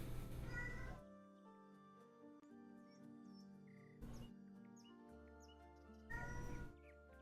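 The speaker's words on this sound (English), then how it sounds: "Let me know if you can hear the cat too." A pet cat shut in a crate meows in three loud, drawn-out bursts, close by, with faint tonal music running quietly underneath between the calls.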